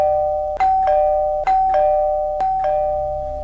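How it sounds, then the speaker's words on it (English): Doorbell rings again and again, a clear electronic chime sounding in repeated two-note pairs with a steady tone between strikes, close and loud with no voices. "helplessly listening to the ceaseless ringing of the doorbells"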